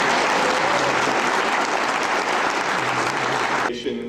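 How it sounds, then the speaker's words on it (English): Steady, dense audience applause fills a hall at an award ceremony, loud and continuous for several seconds before tapering off at the end. "I think we should give her a hearty round of applause."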